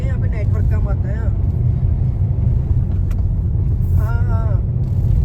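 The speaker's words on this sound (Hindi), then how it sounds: "अभी गाड़ी चल रही है" A car drives along a Himalayan mountain road between Haridwar and Joshimath, its engine and road noise a close, steady low rumble while people talk over it inside.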